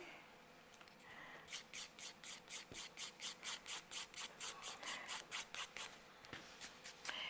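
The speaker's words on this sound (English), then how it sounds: "Now we'll file the other side in the same way." A nail file worked over cured UV gel on a fingernail, a quiet, close, regular series of about twenty rhythmic rasping strokes, each a short scratchy swish, with no talking.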